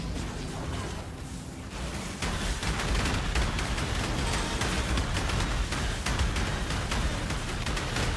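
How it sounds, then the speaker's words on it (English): Rapid bursts of crackling, popping explosions fire off in dense succession, a busy chain of ignite-triggered blasts in the video game Path of Exile. "those cute chain explosions is with the ignite thing"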